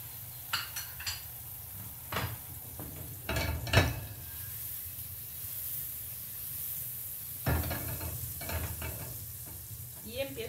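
A small piece of butter sizzling in a frying pan, a soft continuous hiss broken by several sharp clinks and scrapes of utensils against the pan.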